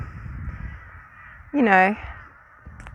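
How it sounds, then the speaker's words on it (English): A single loud, harsh bird squawk rises above steady outdoor background noise, with someone speaking briefly before it. The call could be a cockatoo or a crow. "look at those cockatoos up there. Cockatoos are so noisy."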